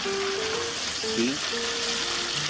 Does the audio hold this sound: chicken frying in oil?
yes